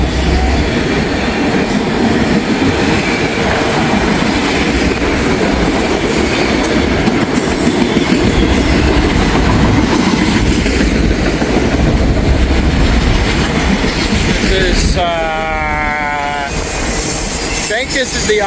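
A long auto rack freight train rumbles steadily past up close, wheels clattering and squealing on the rails, with a brief tonal screech near the end.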